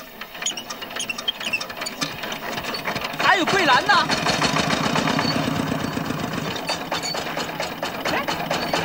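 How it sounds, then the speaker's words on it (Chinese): A tractor engine chugs steadily at close range in a rural mountain village, its mid-pitched rumble continuing under brief conversation between villagers. "拖拉机一响，黄金万两"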